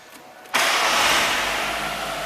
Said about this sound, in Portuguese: Vamos só dar uma partidinha aqui, mostrar.